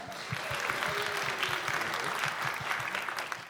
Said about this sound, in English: But round of applause for Ushman Adam.